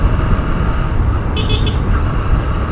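A car in very poor condition drives along a road, its engine and tyre rumble steady and close, with a short horn toot sounding briefly partway through.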